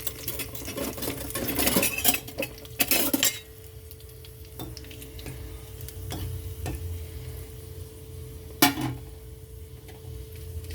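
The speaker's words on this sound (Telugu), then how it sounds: "ఆయిల్ హీట్ అయ్యింది. ఇందులో ఎండుమిరపకాయలు కొద్దిగా అవి బ్లాక్ కావాలి." Dried red chillies fry in hot oil for pachipulusu, a quiet crackling sizzle beneath busy clinks and scrapes of stirring at first, then lighter occasional taps, with no voices.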